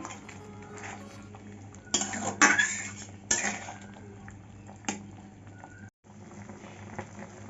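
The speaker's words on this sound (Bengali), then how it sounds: "ঢাকনাটা তুলে নিচ্ছি একটু নাড়িয়ে নেবো" A spoon stirs mango pickle spiced with chilli powder in a pan just uncovered, with scraping and clinks of metal on the pan in bursts over a low simmer. There is a brief dropout near the end and no talking.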